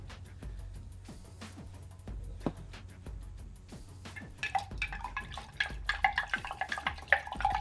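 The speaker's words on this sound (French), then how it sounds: "Donc là, on remet de l'eau." Water is poured back into a container of ashwagandha seeds being harvested, first as sparse close drips and small plops, then swelling into a busier stream of trickling and splashing.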